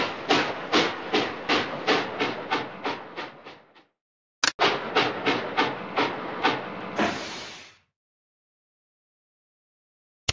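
A cartoon steam train sets off in a Curious George children's game, with a loud run of rhythmic chuffs that fade, a short break, then more chuffs ending in a sustained steam hiss. No one speaks.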